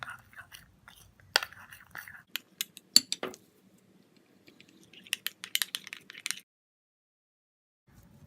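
Spoon clinks and scrapes against a bowl while gram flour and honey are mixed into a face massage cream, with irregular taps and brief clatters close by, then quiet.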